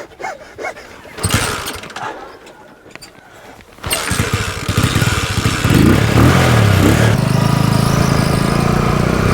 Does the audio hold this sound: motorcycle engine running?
yes